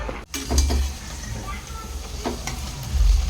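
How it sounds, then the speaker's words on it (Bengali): Luchi, puffed wheat flatbread, deep-frying in hot oil in a home kitchen: a steady close sizzle with brief clinks and stirring sounds, swelling louder near the start and end. "এই যে লুচি ভাজছি"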